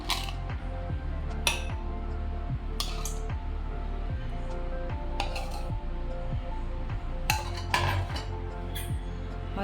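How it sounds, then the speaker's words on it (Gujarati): A spoon stirs a mango lassi of yogurt, sugar, cardamom and mango pulp in a glass, with steady repeated clinks and scrapes against the sides, close and continuous. "હવે તેને સારી રીતે હલાવી લઈએ."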